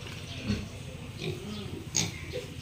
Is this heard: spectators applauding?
no